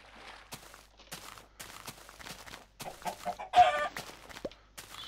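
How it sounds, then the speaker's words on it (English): Chickens clucking in the video game Minecraft, a few short, moderately loud clucks and fowl calls scattered over faint footsteps, with no talking. "there's a lot of chickens here"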